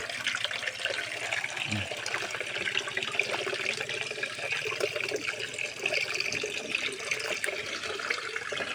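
Running water splashes continuously while pig pens on a farm are cleaned, a steady close hiss with faint voices now and then underneath.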